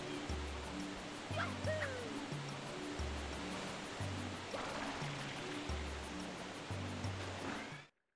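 A steady broadband rush of a waterfall in Super Mario Sunshine fills the scene, with low in-game music notes pulsing underneath and a few faint game effects, then it cuts off abruptly.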